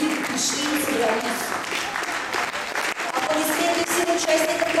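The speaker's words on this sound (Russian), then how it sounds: "Аплодисменты вам самим зрителям" A costume contest crowd at Zilantcon 2017 applauds itself, sustained clapping throughout with voices and some tonal sound mixed in underneath.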